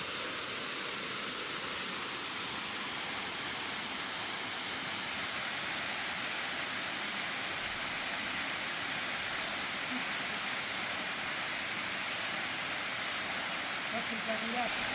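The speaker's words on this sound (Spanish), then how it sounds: "Ahí lo tenemos a Martu disfrutando de la caída de agua, cae pegadito a la roca" Steady, broadband rush of a waterfall pouring close against a rock face at a cold natural pool near Chochís, Bolivia, filling the scene continuously and evenly throughout.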